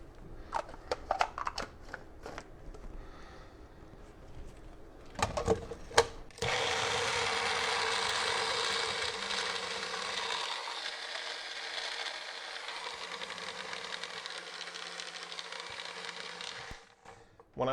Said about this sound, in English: When I'm blending with my Magic Bullet blender, I like to tilt it.